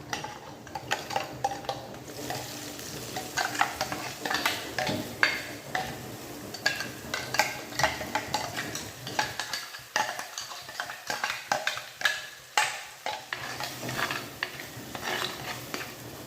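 Ingredients sautéing in a pan for an anchovy fish curry, with a soft sizzle under a busy run of spatula scrapes and clinks against the metal.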